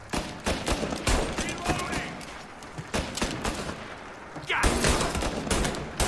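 Repeated gunfire rings out in Mafia Definitive Edition, with sharp shots in an irregular volley and heavier blasts near the end, mixed with game sounds and faint voices.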